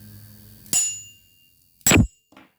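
A metal tuning fork is struck twice in a classroom demonstration, each sharp metallic strike followed by a brief ringing decay, with a softer tap at the end.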